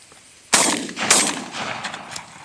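Shotgun blasts ring out during an opening-week dove hunt, two sharp close reports about half a second apart followed by rolling echoes and softer rattles fading out.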